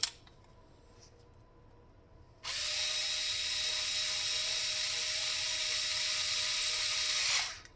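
A power driver spins a screw into the drive shaft of an SCX10 RC crawler. A quiet pause comes first, then a bright, steady high whine runs for about five seconds close by and cuts off.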